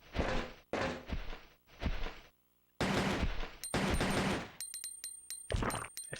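Rapid gunfire bursts from the video game Resident Evil Code Veronica X, loud repeated shots in clusters with brief gaps, some with ringing electronic tones, no voice over them.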